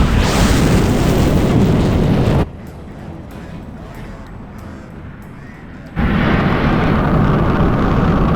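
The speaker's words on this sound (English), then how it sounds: "you are cleared to fire an necrotic elimination missile" An animated missile launch and explosion: a loud, broad roaring blast cuts off into a quieter stretch with faint ticks, then a second heavy rumbling roar bursts back in at full strength.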